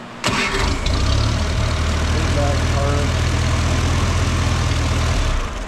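A Farmall Super A tractor engine cranks, catches at once and settles into a steady, loud, close idle that runs with an even low chug to the end, with a brief word spoken over it.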